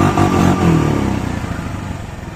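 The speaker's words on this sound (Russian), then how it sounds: "Мотор высокооборотистый," An Irbis SF-200L snowmobile with a 1P62 engine revs up sharply, then its pitch drops and settles into a rapid, clattering idle, loud and close.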